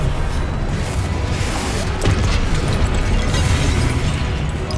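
A Confringo spell explosion in Hogwarts Legacy, a dense, sustained roaring blast with rumbling low end and crackling debris that stays loud and unbroken throughout.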